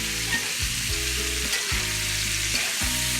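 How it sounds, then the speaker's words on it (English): Sausage browning and searing in a skillet for fried cabbage with bacon, a steady loud sizzle with rhythmic low scraping strokes roughly every second, no voices. "You can just brown them, sear them a little bit."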